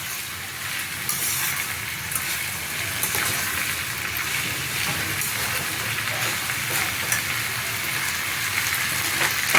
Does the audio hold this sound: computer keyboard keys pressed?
no